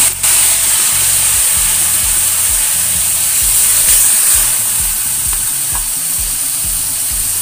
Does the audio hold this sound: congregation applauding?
no